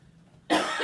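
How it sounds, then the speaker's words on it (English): A single sudden, loud cough bursts out after a moment of near silence, harsh and close, ending the clip. "my gosh, I've been dying to cough."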